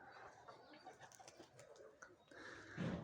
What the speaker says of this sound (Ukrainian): Ну, голуби літають от.